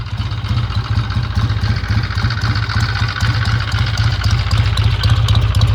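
A 1966 Triumph T120R motorcycle with Boyer ignition idles close by after a cold start, its engine giving a loud, steady, throbbing low rumble with a mechanical clatter throughout.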